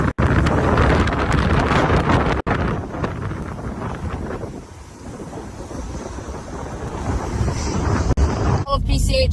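Fierce wind during a wildfire along the Pacific Coast Highway, with downed power lines nearby. A loud, continuous roaring buffet of wind batters the microphone throughout, with brief dropouts and muffled voices underneath.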